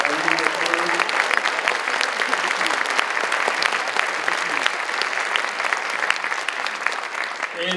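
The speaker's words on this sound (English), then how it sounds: "Can we give them a big round of applause?" Steady, dense applause from an audience at an upper school winter concert, many hands clapping continuously at an even level throughout, with faint voices mixed in.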